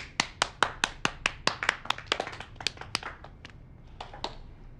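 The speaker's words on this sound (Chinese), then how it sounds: "这位是我们公司新的营销部总监赵凯，大家鼓掌欢迎" A small audience in an office setting claps to welcome a new marketing director, a brief burst of about a dozen sharp, close claps in a quick uneven rhythm that thins out and fades.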